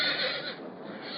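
A roan horse whinnies loudly and close after splinters from a split trunk spear its hip, one sustained, strained cry that tapers off.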